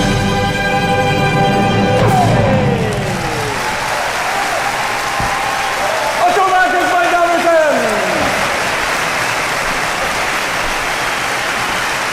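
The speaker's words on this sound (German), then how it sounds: "Applaus" A concert audience at a light classical orchestra performance claps loudly and continuously, a dense wash of applause with voices and sliding tones rising over it.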